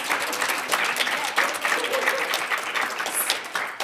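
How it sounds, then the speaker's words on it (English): Audience applause at a scholar research presentation, a dense sustained patter of many hands clapping for about four seconds at moderate loudness, with no speech on top. "Let's give another round of applause to them."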